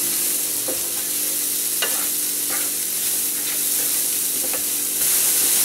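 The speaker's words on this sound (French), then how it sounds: "Une fois que vous avez fait revenir légèrement, disons une fois que vos oignons commencent à être transparents" Onions and shallots sauté in a pan with a loud, dense sizzle, while a utensil scrapes and stirs through them every second or so.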